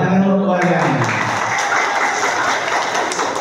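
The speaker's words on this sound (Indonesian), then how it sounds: "Tepuk tangan untuk warganya." Villagers at a community meeting about alleged misuse of village funds break into applause, a loose spread of clapping that follows a brief trailing voice at the start and carries on at moderate volume.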